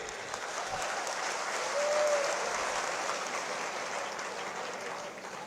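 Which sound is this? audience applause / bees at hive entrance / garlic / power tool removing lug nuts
audience applause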